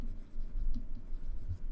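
Chalk or marker scratching across a board during a Class 10 maths lecture, soft continuous strokes close by with no talking.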